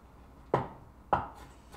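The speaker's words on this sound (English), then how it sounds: "mince that up." Two sharp, close cleaver chops strike a cutting board while mincing garlic and ginger, spaced about half a second apart in a quiet kitchen.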